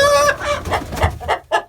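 Chickens hatched at home cluck close by, a run of short throaty clucks and a higher drawn-out squawk at the start, loud and with no talk.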